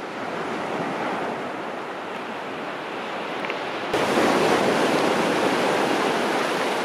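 Sea waves wash onto a white sand beach on Koh Samet, a steady, close rush of surf that swells louder partway through, with no talk.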